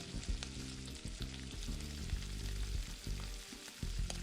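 Mushrooms, onions, bell peppers and other vegetables fry in olive oil in a pan, giving a steady, close crackling sizzle, with soft rhythmic scraping as they are stirred.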